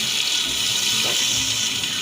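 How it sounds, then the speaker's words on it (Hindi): Half a cup of water is poured into a pot of cooking meat and tomatoes for homemade loqi gosht, giving a continuous close hissing splash that lasts the whole moment. "अब हम इससे 1/2 कप पानी डालेंगे जिसमें टमाटर भी गल जाएंगे और गोश्त भी गल जाएगा"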